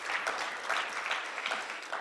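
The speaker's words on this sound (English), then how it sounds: "Please, another round of applause for this session." Conference audience at a regional AI forum session claps in a moderate, continuous patter, with individual hand claps faintly distinct in a steady wash and no talking.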